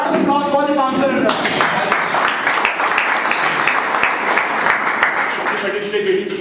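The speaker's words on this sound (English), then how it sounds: "A round of applause for Dipankar." A debate audience breaks into applause for the first speaker, a sustained wash of clapping that swells in after a brief tonal intro and carries on with voices heard under it.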